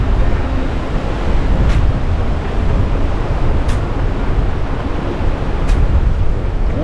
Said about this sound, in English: Oh yeah, definitely windy.